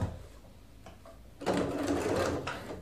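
Sewing machine stitching a fabric tote bag, fitted with a machine presser foot, runs in one steady continuous burst close by after some quiet handling noises, with no talking.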